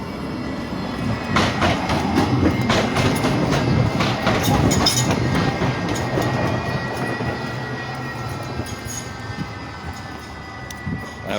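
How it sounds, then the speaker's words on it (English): A tram rumbles across a bridge over the flooded Danube in Bratislava, with a loud rolling roar, rattling wheel clicks and a faint high squeal, gradually easing as it passes. "And another tram coming over the bridge."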